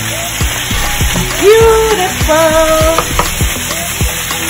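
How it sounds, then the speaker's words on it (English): Shallot and onion hit a hot pan for a pepper chicken and shrimp dish and sizzle steadily, with stirring clatter and a brief spoken word over the frying. "I'm adding my shallot and my onion on it just like that"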